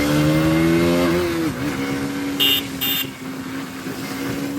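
Bajaj Pulsar NS400Z motorcycle revving hard in a street race, a loud, close engine whine climbing and dipping through gear changes, with another engine blending in underneath.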